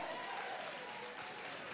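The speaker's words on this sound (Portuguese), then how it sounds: "Aplauda ao Senhor." A church congregation applauding during a worship service, a dense, even wash of clapping with a faint voice running underneath.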